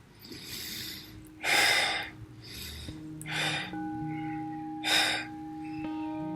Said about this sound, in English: You can breathe like this.